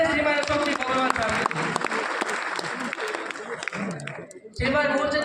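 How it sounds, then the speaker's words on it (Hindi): Audience applause at a Bikaner community talent awards ceremony, a loud, sustained crowd clapping that briefly thins before swelling again, with some voices and chuckles mixed in. "एक बार जोरदार ताली बजाएं श्रीमान अशोक जी बोबरवाल साहब"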